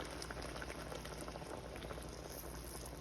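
Broth for crab with misua at a full rolling boil in a pot, a dense, continuous bubbling hiss that stays close and steady throughout with no talking.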